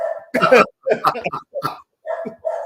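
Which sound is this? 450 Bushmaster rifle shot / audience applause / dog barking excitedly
dog barking excitedly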